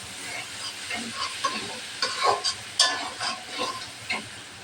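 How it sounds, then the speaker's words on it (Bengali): Chopped onion and dried chillies fry in a pan with prawns, giving a soft continuous sizzle broken by a string of sharper spoon scrapes and clinks, near and without speech. "পেঁয়াজটাও ভালোভাবে ভাজে নেব।"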